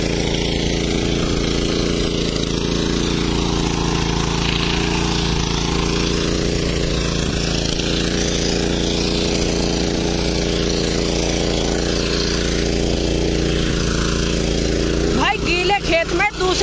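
A power weeder runs in a wet sugarcane trench with a loud, continuous engine roar that wavers slightly in pitch, while someone talks over it throughout.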